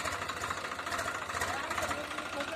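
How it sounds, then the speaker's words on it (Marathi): Tractor engine pulling away after unloading harvested wheat on a farm, a steady rumbling, knocking drone that holds continuous and fairly loud, with speech likely over it. "ट्रॅक्टर निघाला आपला गहू टाकून"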